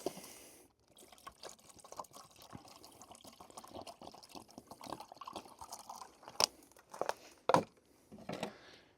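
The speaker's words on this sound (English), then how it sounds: "top it up with water." Quiet water pours steadily into the reservoir of a EUHOMY countertop ice maker, with faint trickling and a few plastic crinkles and knocks toward the end.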